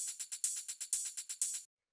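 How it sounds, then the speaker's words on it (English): Two electronic hi-hats from a futuristic techno track tick in a quick, bright, crisp pattern of short hits with accented open strikes, played solo and stopping abruptly. "the next thing we have here are these two hi-hats which sound like this"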